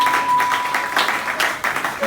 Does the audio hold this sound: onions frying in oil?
no